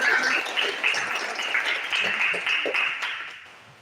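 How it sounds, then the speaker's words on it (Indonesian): An audience at a student association chair election event applauds the candidates, giving a steady wash of clapping that holds for a few seconds before fading out. "Beri tepuk tangan yang meriah untuk para calon ketua kita."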